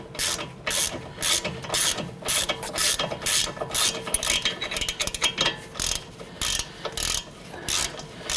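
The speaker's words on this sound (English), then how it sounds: "work this nut back and forth." A ratchet wrench clicks in rapid bursts as a rusted strut nut on a Honda Pilot front strut assembly is worked back and forth, the ratcheting close and repeated in uneven stroke groups.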